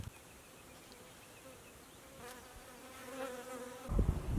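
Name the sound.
bees buzzing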